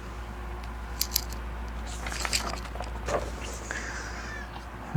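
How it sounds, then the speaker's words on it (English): A pet cat meows indoors at home, with a few soft, drawn-out cries in the latter half alongside light clicks and rustling over a low background hum. "Sorry, I got interrupted by the kitty."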